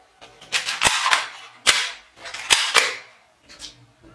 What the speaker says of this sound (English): Super power toy gun!